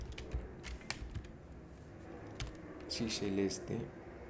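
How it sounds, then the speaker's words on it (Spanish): Soft key clicks from a small computer keyboard as an Alt code is typed, a quick cluster of taps near the start and again around the end, under a man's speech. "yo hago el menor con Alt 62, mi teclado es pequeñito"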